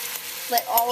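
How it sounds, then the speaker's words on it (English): Sauce hits a hot pan for Vietnamese thit rang muoi, a loud close hiss with a few clinks and scrapes as it pours in, over about a second. "add our sauce into the pan"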